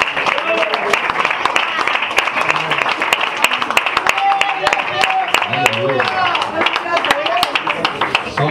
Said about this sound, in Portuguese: E as palmas aí pra geração de bem aí, Júlio.